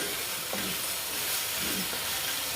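Tomato frying and being stirred in a pan for a cauliflower and potato dish: a steady, close sizzling hiss with a few soft scrapes of the spoon, no voices.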